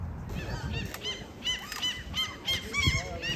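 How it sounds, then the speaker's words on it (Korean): Seagulls feeding in a cherry tree in a church yard in Norway call repeatedly in loud, harsh honking cries, several birds overlapping in quick bursts nearby. "저 갈매기들이 우리 성도님들 체리를 다 따먹고 있네."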